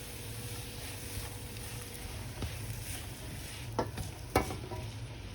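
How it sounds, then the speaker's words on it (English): Onions frying in vegetable oil over high heat, a soft steady sizzle with a few sharp utensil taps near the end, no speech. "Fry for about 2 minutes until they become translucent."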